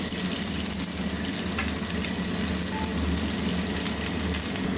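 Cut potato pieces frying in hot oil in a pan with ginger, a steady close sizzle running without pause and no talking.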